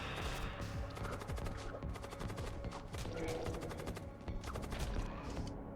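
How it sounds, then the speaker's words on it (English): Rapid bursts of Storm Cannon fire in the space combat game Void War, a dense volley of sharp, crackling shots overlapping one another for several seconds at moderate level, with no talk over them. "Okay, let's try firing this. Instantly charges Storm Cannon."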